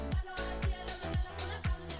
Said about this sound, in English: I mostly drop saw bass on drops.